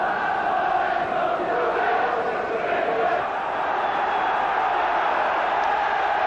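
A packed all-ticket football crowd of 26,000 at Carrow Road roars in a steady, dense wash of chanting and shouting for Norwich City against Liverpool, continuous and full throughout.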